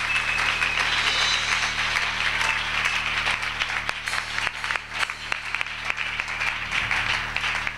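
A church congregation applauds loudly and steadily during a Thursday evening worship service, a dense continuous wash of clapping with a low hum underneath throughout.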